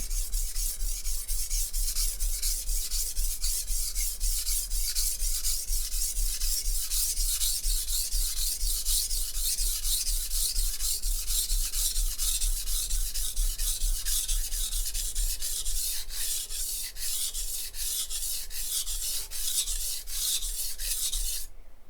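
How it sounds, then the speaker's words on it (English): A knife is drawn over an inexpensive whetstone in steady repeated strokes, a close, even rasping grind with a regular rhythm that quickens into shorter strokes toward the end, with no voices. "so I've got to slow down so I don't grind the knife on the edge of the stone"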